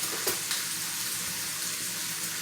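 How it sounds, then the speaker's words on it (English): Water runs steadily into a blender of birria sauce, a continuous close splashing wash with a couple of brief clinks near the start. "I'm gonna add just a little water because I wanted to grind down a little finer than that"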